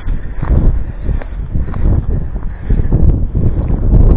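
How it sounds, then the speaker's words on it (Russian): Strong winter wind on a ravine slope buffets the microphone in loud, low rumbling gusts that rise and fall throughout. "Ветер сильный."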